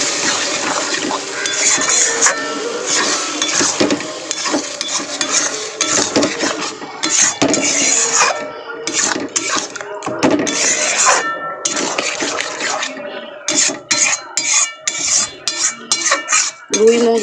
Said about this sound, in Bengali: তো মশলার সঙ্গে আমি কিন্তু মুগ ডালটা ভালো করে কষিয়ে নেব।